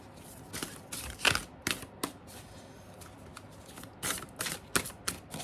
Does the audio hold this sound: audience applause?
no